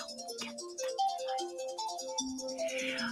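A phone rings with an incoming call from a nurse, playing a melodic ringtone of quick repeated notes, moderately loud and steady without any talk.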